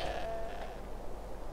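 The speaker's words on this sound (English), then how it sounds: "Okay, tripped on the goat." A goat bleats in Skyrim, a single drawn-out nasal cry near the start that fades into steady game ambience, with no talk over it.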